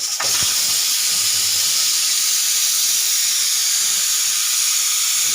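A pressure cooker whistle vents steam as chicken cooks in the cooker: a loud, steady hiss runs unbroken for the whole stretch, with a brief low thump right at the start.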